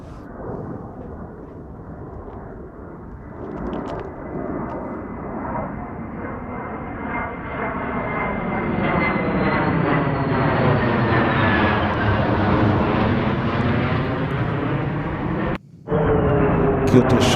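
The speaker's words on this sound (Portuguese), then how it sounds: "Olha outro avião a vir aí." A military jet approaches near Nellis Air Force Base in Las Vegas. Its engine roar swells steadily over fifteen seconds with a rising, sweeping whine. The sound breaks off abruptly, then resumes loud.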